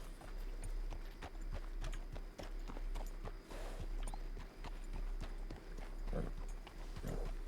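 Horse hooves walk at a steady clip-clop in Red Dead Redemption 2, close and continuous over low game ambience, with a couple of heavier thuds near the end.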